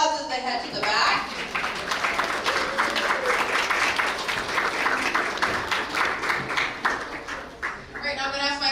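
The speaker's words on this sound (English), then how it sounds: "let's give them a huge round of applause as they head to the back" Audience at a school geography bee breaks into sustained applause, a dense wash of many hands clapping that holds steady for several seconds before tapering, with some voices mixed in.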